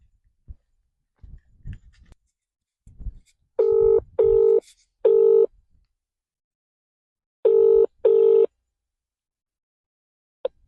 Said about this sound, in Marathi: आपण भोपाळे साहेबांना आपण फोन करणार आहोत